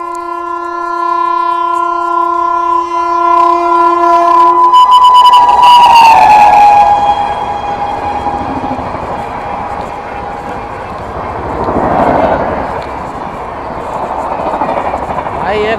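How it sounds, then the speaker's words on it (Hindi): The Brahmaputra Mail, running between Kamakhya and Delhi, sounds a long, loud horn as it passes through a railway station crossing. Heavy rolling rail rumble and wheel clatter follow and continue steadily for the rest of the passage. "भाई ये भी लेट चल रही है भाई, ओवरटेक मतलब क्रॉसिंग हो रही है इसकी मद्रास रेलवे स्टेशन पर"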